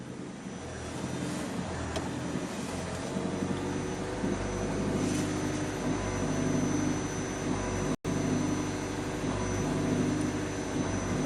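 Ford Maverick Hybrid engine with the climate controls on, surging at higher revs in a steady on-off pulsing pattern. The drone is continuous and fairly loud, with no talking over it.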